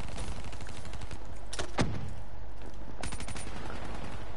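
Gunfire crackles through a hardcore match of Black Ops 3, with rapid shots across the clip, a sharp sweeping tone near the middle that may be the collateral kill cue, and another burst of shots later on.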